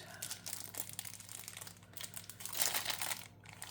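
Thin plastic packaging around a bottle of ink crinkles and crackles as it is handled and unwrapped, close and fairly quiet, in irregular bursts that grow busier toward the end.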